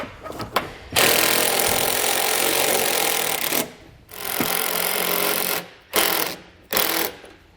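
Power drill driving self-tapping screws to mount a Roadmaster automatic battery disconnect on a 2020 Chevrolet, loud close whirring bursts: one long run, a second long run, then two short bursts.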